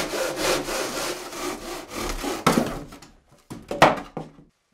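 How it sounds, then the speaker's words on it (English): A saw cuts through a faux wood beam in a run of quick, rasping back-and-forth strokes, close and fairly loud, then slows into a few separate strokes with short pauses between them. "I prefer to cut one side at a time, turning the beam as necessary."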